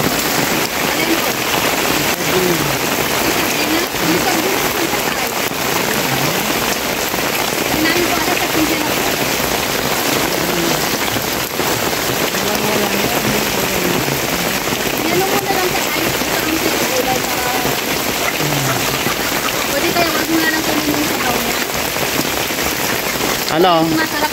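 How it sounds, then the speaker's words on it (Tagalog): Steady, heavy rain drums on a surface without pause at a house in the Philippines, a dense continuous patter close by; no clear voices stand out. "Naabutan po kami ng ulan po dito mga kalingap"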